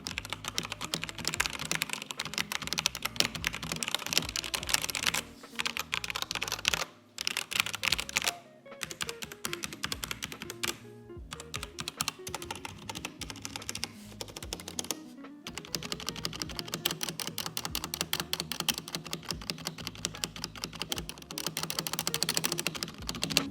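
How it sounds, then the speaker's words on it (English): Steady fast typing on a Tecware Phantom mechanical keyboard with Outemu brown switches, dense close-up clacks and key rattles running continuously with a few brief pauses. "the board with me today has their Outemu browns on it, and I'll go ahead and give you guys a sound test of those now"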